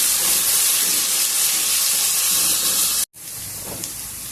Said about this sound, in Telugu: ఇవి కూడా ఉల్లిపాయ ముక్కలతో పాటు వేగనిద్దాము